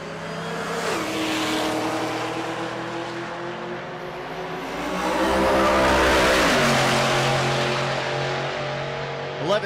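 A New Edge Mustang and a Cadillac CTS-V drag racing at a race week event, with loud engines revving and rising through gear changes, a sustained roar that builds toward the middle and then shifts lower, with faint commentary beneath.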